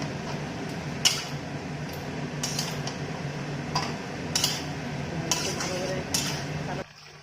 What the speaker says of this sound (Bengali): এখন মাংসগুলো ঢেলে দিব।